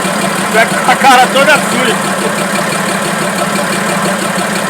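A Fiat 190 tractor engine idles steadily after starting, a continuous low rumbling drone that stays even throughout, with a short stretch of talk early on over the running engine.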